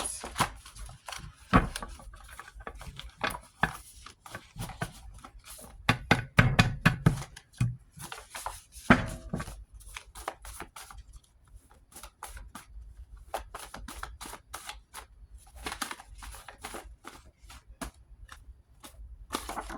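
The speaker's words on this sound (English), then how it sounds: "Try to shuffle these cards." A deck of playing cards being shuffled at close range, with irregular riffles, taps and soft flutters coming in uneven bursts over about twenty seconds and no talking.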